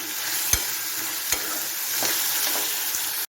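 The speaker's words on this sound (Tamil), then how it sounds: "இது கொஞ்சம் லேசாக வசக்கிக்கிடுவோம்" Finely chopped chayote with onion and tomato sizzles steadily in a hot pan, a continuous bright frying hiss broken by a few soft knocks of the spoon as it's tossed.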